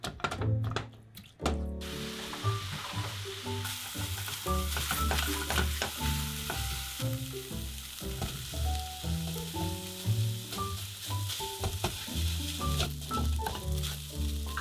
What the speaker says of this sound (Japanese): 豆腐は炒り豆腐にして玄米ご飯と混ぜます。